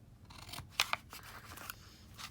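Two crisp scissor snips cutting a thin sliver of paper for a handmade petite journal, close and clear against a quiet room, with faint handling rustle around them.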